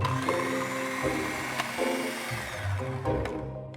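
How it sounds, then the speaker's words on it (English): A food processor blitzes tuna, fennel, salt and pepper into a rough paste, making a steady motorized whir with shifting pitch and knocking as the contents churn, close and moderately loud, ending abruptly. "Now the lid can go on and I'll blitz this until we have a rough paste"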